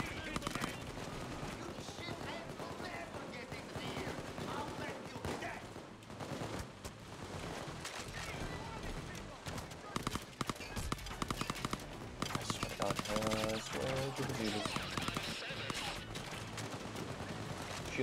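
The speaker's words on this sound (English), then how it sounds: "It is the MKAR-6 rifle." Rapid automatic fire from an MKAR-6 rifle in a shooting video game, sustained bursts of dense crackling shots running almost throughout at a steady, fairly loud level with a voice talking over parts of it.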